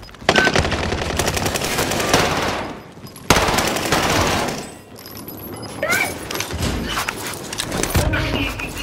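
Automatic gunfire in Modern Warfare on Rebirth Island, rapid loud machine-gun bursts in long runs, broken by short pauses and a sharp thump, with scattered clanks in between.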